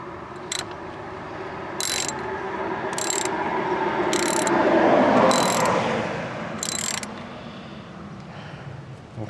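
A ratchet wrench clicks in repeated bursts while tightening the positive terminal bolt on a car battery, the sharp close pawl ticks coming in several short runs over a low background.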